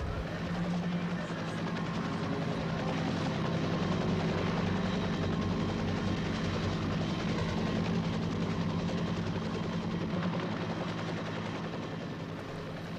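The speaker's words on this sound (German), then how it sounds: "Jeden Mittag kontrollierten zudem noch mit Maschinengewehren bewaffnete Helikopter das Gebiet." Armed military helicopters fly over the area, their steady rotor drone staying loud and continuous from start to end with no voices.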